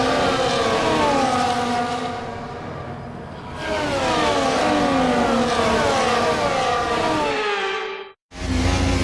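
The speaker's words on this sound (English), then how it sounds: "The formation lap gets underway as the drivers prepare themselves for the final race of another fantastic season" Several F1 cars on the formation lap at Abu Dhabi in F1 24, loud high-pitched engines revving and passing close with sweeping pitch changes, then a sudden cut near the end.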